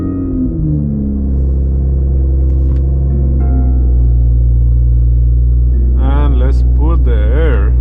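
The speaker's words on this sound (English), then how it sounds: "So let's turn on the car." A car idles with a steady low rumble that builds slightly after the first second and continues throughout, while a voice talks briefly near the end.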